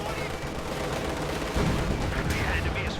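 An anti-tank gun firing at T-34 tanks in a World War II strategy game, a dull boom rising from constant battle rumble and engine noise, with faint distant crackle afterward.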